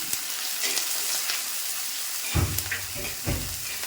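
Chillies and washed curry leaves fry in hot oil, giving a steady, dense, close crackling sizzle throughout, with a few dull low knocks near the end as the pan is stirred; no one speaks.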